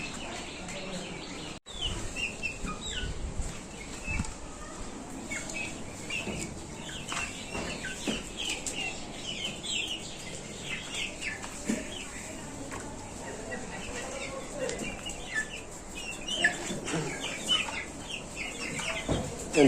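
A mixed backyard flock of mostly desi hens with a few farm broilers clucks continuously while being fed, scattered clucks and soft calls layered together at moderate distance, with some talk in the background.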